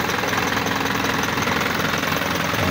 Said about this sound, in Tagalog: Okay, umandar na yung makina natin.